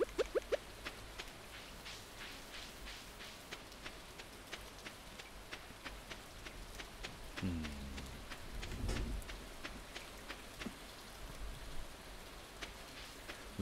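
Steady rain falls in the video game Stardew Valley, a soft continuous patter with faint droplet ticks and a low rumble swelling midway.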